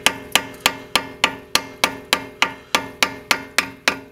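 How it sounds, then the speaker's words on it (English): About thirteen sharp metallic hammer strikes land on a flathead screwdriver wedged against a crimped axle nut on a 2002-2006 Honda CR-V, evenly spaced and close, each ringing briefly before the next, with no voices. "take a flathead and just hammer that out so that you will be able to rotate the nut"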